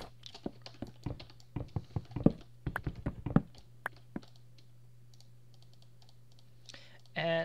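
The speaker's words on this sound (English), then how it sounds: "I am clicking for each and every one to place them down" Mouse clicks placing doors in Minecraft, a string of sharp separate clicks at an uneven rhythm over a steady low hum, thinning out after a few seconds before a short burst of other sound at the end.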